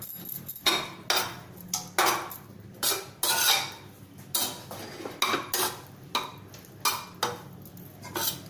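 A spatula scrapes and taps against a pan while grated coconut is sautéed, a steady series of metallic strokes roughly every half second, close and clear with no talk.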